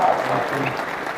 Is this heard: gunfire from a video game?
no